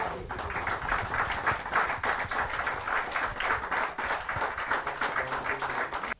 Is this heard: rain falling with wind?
no